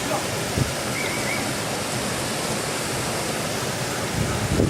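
Steady broadband rush of a rain-swollen river fills the whole clip, loud and constant, with a faint brief tone partway through.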